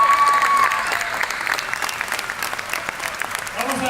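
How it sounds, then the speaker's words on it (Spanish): An audience in Argentina bursts into applause for the horror actor Robert Englund. The clapping is steady and full, loudest at the start, then settles into a thinner patter that holds to the end. "un aplauso para Robert"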